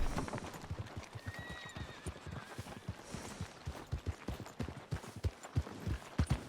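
Hooves clip-clop steadily on the ground from a horse in a Wild West–style video game, with a brief neigh rising midway; the rhythmic hoofbeats run clearly throughout at moderate loudness.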